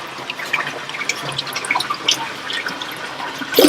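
Small water features trickle and splash in the garden of a villa in Ubud, a steady close patter of droplets with a louder splashing burst at the end.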